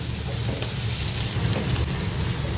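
Chopped shallots sauté in a pan for a Kerala-style prawn mango curry, making a dense, even sizzle that sounds almost like rain. It is close and steady, with no speech.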